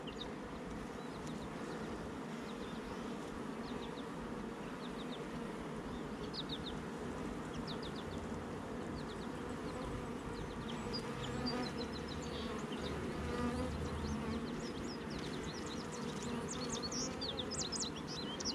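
Honeybees hum from an open hive while its frames are lifted and inspected, a steady, dense, moderate buzz that never lets up, with a few faint chirps sounding in the distance.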